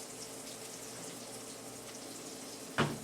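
Potatoes are rinsed under running tap water, a soft, constant trickle and hiss heard close, ending in a brief clunk, with no talk.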